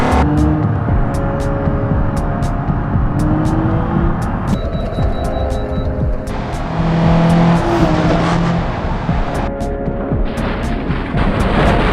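Car engine in the video game BeamNG, a steady droning drive with shifting tones and repeated sharp clicks, loud and continuous.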